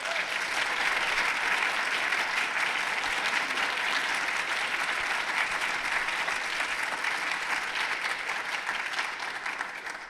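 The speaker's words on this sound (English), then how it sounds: "I think we need to give them a round of applause." Sustained audience applause at a clinical science lecture, a steady dense wash of many hands clapping that holds for about ten seconds and thins slightly at the end, with no talk over it.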